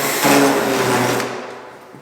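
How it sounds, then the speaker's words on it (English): A power drill drilling into a pickup truck bed: a short, loud whirring motor burst that spins for about a second, then winds down and fades. "so we're gonna drill right here"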